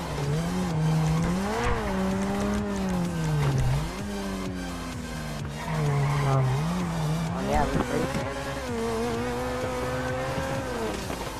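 A car races in GTA Online on PS3, with loud, steady engine revving that rises and falls with gear changes and occasional tire squeal and skidding, all continuous and close.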